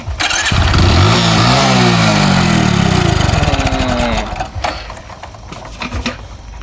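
A motorcycle engine cranks and catches, roaring loudly up close with a falling rev, then sputters and idles unevenly.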